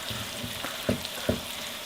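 Chopped onion and garlic fry in a pan for a beef meatball noodle dish, giving a steady close sizzle with a couple of sharper stirring clatters.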